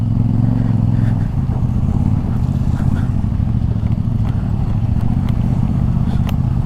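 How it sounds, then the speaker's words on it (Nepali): 449cc motorcycle on an evening ride, its engine revving hard and then holding a loud, steady throaty drone, close and continuous, with road and wind noise mixed in and no talking. "449 सीसीको इन्जिन हो अनि त्यतिको त हान्नै पऱ्यो नि"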